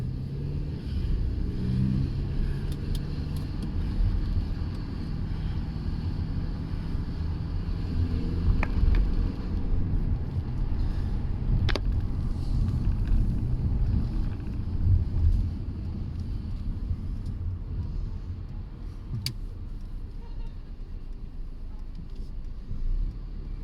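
Steady road rumble and wind roar inside a Mercedes C350e plug-in hybrid as it drives and picks up speed, with a continuous low drone and no talking.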